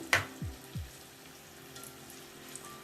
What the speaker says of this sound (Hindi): धीमी आंच पे इसको हम फ्राई करेंगे